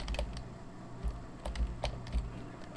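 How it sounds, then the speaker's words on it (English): Quick bursts of clicking on a computer keyboard during PC play, irregular clusters of keystrokes, close and fairly quiet. "I'm playing with a keyboard"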